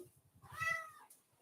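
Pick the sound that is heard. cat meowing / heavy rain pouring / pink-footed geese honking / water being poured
cat meowing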